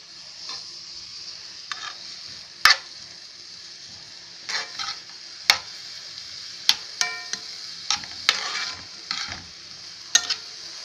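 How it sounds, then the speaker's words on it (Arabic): Onions frying in a pan alongside bell pepper and tomato for a cauliflower dish, giving a steady soft sizzle broken by scattered sharp clicks and taps of stirring, close and moderately quiet with no talking. "انا هنا بقى عايزه احمر البصل واحط نوع الطماطم برضو"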